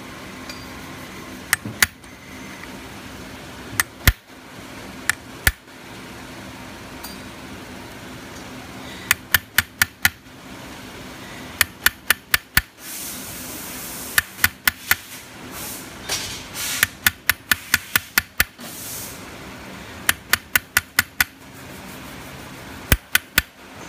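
Hammer striking a chasing chisel on metal in sharp, ringing taps, some single and some in quick clusters of three to six, with short pauses between runs over a low background hum.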